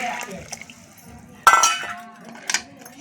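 A metal pot clanks down sharply onto a pan of hot water for steaming, followed by a short rattle and another clink, with a voice talking quietly underneath.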